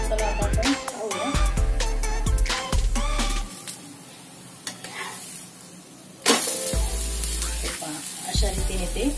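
Thalipeeth flatbread roasting on a pan over medium heat, with a soft sizzle under repeated scraping and tapping knocks of a spatula, loud and close, pausing midway then resuming.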